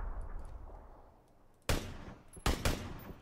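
Gunfire in the video game PUBG: a sharp, loud shot cracks out after a quiet stretch, followed by two more quick bangs, against a faint background hum.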